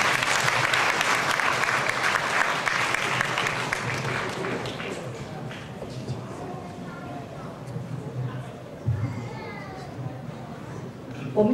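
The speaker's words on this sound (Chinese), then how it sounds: "掌声鼓励。" A hall crowd at a Chinese New Year spring festival breaks into loud, dense applause that fades over several seconds, leaving murmuring voices and a few scattered sounds.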